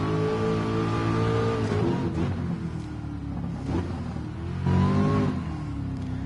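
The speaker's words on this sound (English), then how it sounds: "Oh, listen to that car, and it sounds so great with the VR on." A car engine in the racing game GT Sport, played in VR, revs hard several times, climbing and dropping in pitch with gear changes, loud and close with no talk.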